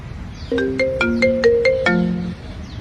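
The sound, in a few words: phone ringtone in cartoon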